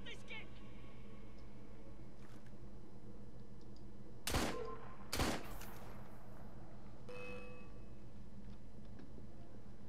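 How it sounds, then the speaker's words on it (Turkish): Gunfire in the video game Assassin's Creed Syndicate: two loud, sharp shots about a second apart ring out over a quiet, steady background hum. "silah sesinin hepsi geliyor"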